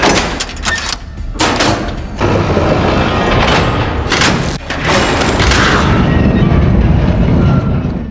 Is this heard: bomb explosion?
yes